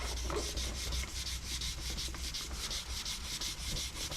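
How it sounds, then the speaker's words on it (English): A 3D printed part is sanded by hand with repeated quick back-and-forth rubbing strokes, close and fairly quiet, steady in rhythm and heard alone. "it does pay too to sand for a little bit and then run your fingers over the lines and feel for"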